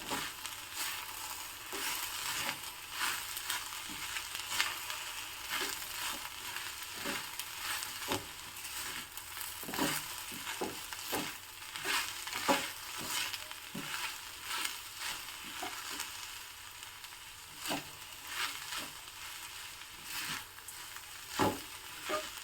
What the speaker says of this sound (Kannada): ಉಪ್ಪು ಹಾಕ್ಕೊಂಡು ಹುರಿಯೋದ್ರಿಂದನೂ ಸಹ ಚೆನ್ನಾಗಿ ಫ್ರೈ ಆಗುತ್ತೆ